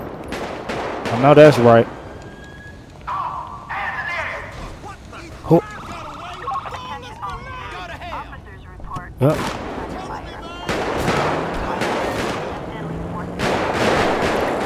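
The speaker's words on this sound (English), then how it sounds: "Bro, I done shot you so many times, bro." Gunfire in Grand Theft Auto V from a Los Santos Red gang mod: sharp shots and bursts scattered through the stretch, loudest early on, with game sounds underneath and someone talking over it.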